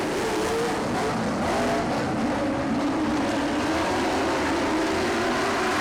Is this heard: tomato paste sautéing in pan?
no